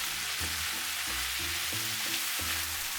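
Onion and mushrooms stir-frying in a pan for a Chinese-style chicken spaghetti, a steady soft sizzle with a low rhythmic clatter of stirring repeating roughly every half second, close and moderate in level.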